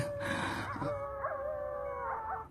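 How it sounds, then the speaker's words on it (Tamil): A dog howls in long, wavering tones, a fox-like cry mixed in, rising and falling over a couple of seconds, moderately loud with no talking. "நாடியில நாய் நரி சத்தம்லாம் கேக்குது"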